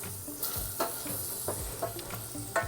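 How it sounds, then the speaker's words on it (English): Chopped ham sautés in olive oil in a pot for Puerto Rican stewed beans, a soft steady sizzle with faint utensil scrapes every half second or so. Quiet and close, with no talking. "Next, let's go ahead and add in our ham. Yummy, yummy ham. And we're just going to saute this."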